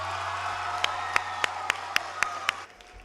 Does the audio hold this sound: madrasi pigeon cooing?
no